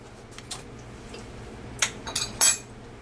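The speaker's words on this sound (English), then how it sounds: "I'm going to get a spoon." Several sharp metal clinks of a spoon against a dish while tasting pistou, a few light taps then a quick louder cluster near the end, close and otherwise quiet.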